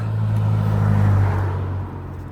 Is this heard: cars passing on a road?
yes